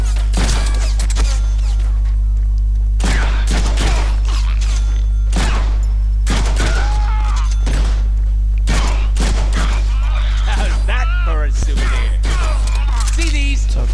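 Deadpool video game gunfire: sharp, loud shots in irregular bursts over a steady low hum, with faint talk between volleys.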